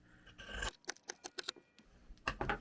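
Scissors snipping through fabric for a chunky needle book cover, a quick run of sharp, close cuts in an uneven rhythm with a couple of heavier rustling bursts at the start and end.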